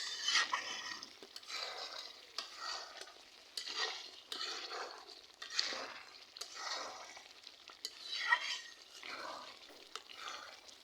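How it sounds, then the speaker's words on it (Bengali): Spicy broiler chicken curry being sautéed in a pan, stirred in repeated bursts with steady sizzling and scraping of the spoon against the pan, moderately loud and close, with no talking. "তো আমি আরেকটু ভালোভাবে কষাই নিব।"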